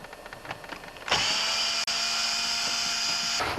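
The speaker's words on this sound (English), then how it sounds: "I'm going to remove the three bolts back here and they're a 5/16." A power tool, likely a drill or driver, runs steadily for about two seconds as it backs out 5/16 bolts from the rear of a Tecumseh snowblower's electric starter, with one brief stop midway.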